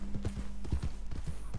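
In Red Dead Redemption 2, a horse's hooves clip-clop at close range in a quick, uneven rhythm of soft thuds during horse tricks.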